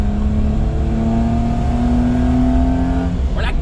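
A Daihatsu Midget II kei truck's small engine idles and revs steadily up close, its buzzy drone holding a rising pitch before a brief higher whine at the end.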